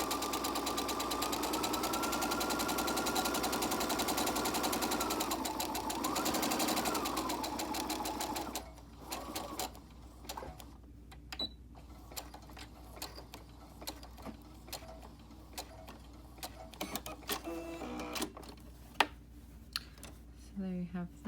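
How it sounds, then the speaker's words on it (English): A sewing machine stitches a curved 3/8 inch seam on a fabric mask, running in a steady loud whir for about eight seconds, then stopping, followed by quiet handling clicks. "just sew with a 3/8 inch seam allowance"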